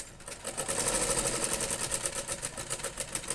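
A sewing machine runs steadily through a double stitch on cloth while a tassel is made, with a fast, even mechanical whirr held close and loud for a few seconds.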